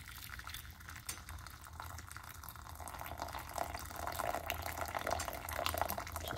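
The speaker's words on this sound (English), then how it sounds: "we're gonna go ahead and pour this" Brewed tea being poured from a pot into a vessel, a steady broadband liquid stream that swells slightly louder toward the end, close and continuous with no talking.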